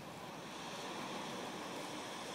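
Ocean waves wash onto a shore beside a wetland in a steady, broad rush of surf and wind, with no voices.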